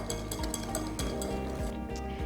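Eggs and sugar for custard whisked in a bowl, with a rapid, steady clinking and scraping of a utensil against the bowl, close and continuous, with no voices.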